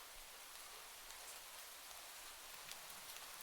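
Steady rain patters on a surface, a soft, even hiss that holds constant from start to finish with no voices over it.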